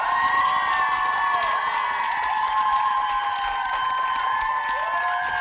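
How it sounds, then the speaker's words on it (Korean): Studio audience on a Korean TV variety show responds with loud crowd noise, cheering and clapping mixed with sustained whistling or shouting tones throughout. "자, 박수 부탁드립니다."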